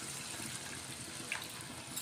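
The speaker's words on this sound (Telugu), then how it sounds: "ఇప్పుడు కొంచెం వాటర్ వేసుకుందాం." Water pours steadily from a tap or vessel into a pan of simmering egg chicken curry, a continuous soft gushing splash, close and fairly quiet with no talk.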